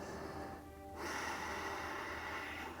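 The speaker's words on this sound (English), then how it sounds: "deep breath in and out" A deep breath during a yoga arm-strength flow, drawn in softly and then released as a longer, steady airy exhale close to the mic.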